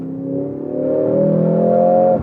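A Mercedes GLC 63 AMG engine rises steadily in pitch as it revs while downshifting, loud and close, then cuts off abruptly at the end.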